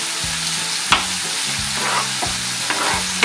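Bay leaves, bruised galangal and lime leaves sautéing for catfish rujak, with a steady sizzle and repeated scraping stirs and clinks of a spatula against the pan, close and fairly loud, no voices.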